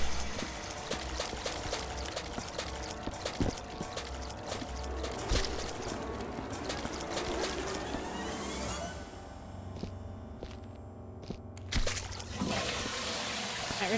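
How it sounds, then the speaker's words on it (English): Water splashes and trickles in a game toilet area during a Viscera Cleanup Detail bathroom level, with a long stretch of pouring, dribbling liquid and scattered clicks, then a short break before a second burst of splashing. "Okay, there's a splash there, but I think that's coming from this way"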